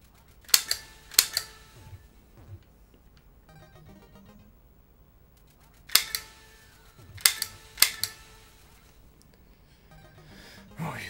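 Light-gun zapper shots in the NES game Duck Hunt fire as sharp, bright cracks in quick pairs, separated by quiet stretches with faint game tones.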